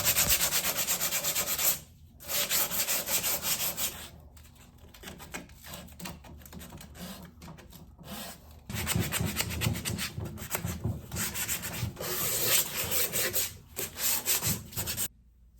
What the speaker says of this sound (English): using everything from a rotary sander to a palm sander to one of my handheld sanding pads to just an actual sandpaper with my hand